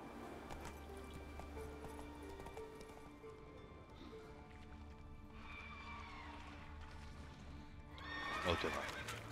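Roach, a horse in The Witcher 3 on Skellige, whinnies loudly several times over steady clip-clopping hooves, with a final sharp neigh near the end and faint game ambience underneath.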